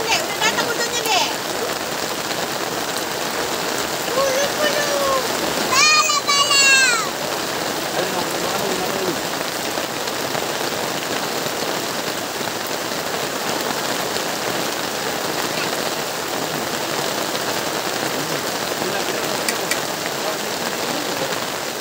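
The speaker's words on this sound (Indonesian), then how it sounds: "Udah datang hujannya Dek." Heavy rain pouring steadily on a hut at night, a dense continuous hiss throughout, with a brief squeaky call and some movement early on.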